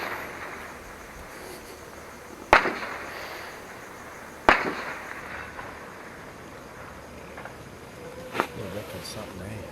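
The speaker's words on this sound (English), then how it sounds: "Gunfire extremely close," Close gunfire during unrest in Dili, East Timor: two sharp loud cracks a couple of seconds apart, then a fainter third report, over a steady buzz of insects and background noise.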